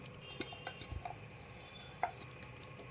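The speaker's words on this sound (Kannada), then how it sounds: "ರುಬ್ಕೊಂಡಿದ್ದೀವಲ್ಲ ಮಸಾಲ ಅದನ್ನು ಹಾಕಬೇಕು. ಅದು ಹಾಕಿ ಚೆನ್ನಾಗಿ ಫ್ರೈ ಮಾಡಬೇಕು." Ground masala frying with soaked rice in a pan for Mandya-style khichdi, heard as faint, scattered scrapes and clinks of stirring over a quiet background.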